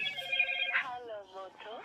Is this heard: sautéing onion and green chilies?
no